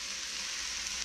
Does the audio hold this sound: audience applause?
no